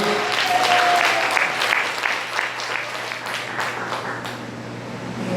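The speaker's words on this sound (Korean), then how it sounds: "박수로 환영하시겠습니다." A Korean church congregation claps to welcome a guest pastor at a national prayer meeting. The clapping is strong and sustained, swells early, then tapers to a steady patter.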